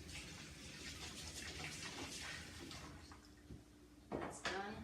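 Tap water runs into a container to soak a tool, a faint, steady gush with a couple of louder splashes near the end.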